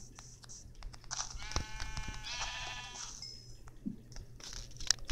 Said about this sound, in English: And another sheep.